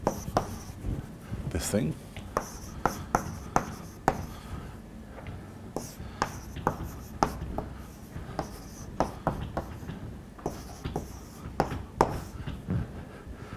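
Chalk tapping and scraping on a blackboard in a special relativity lecture, sharp irregular strokes heard close while a lecturer talks over them.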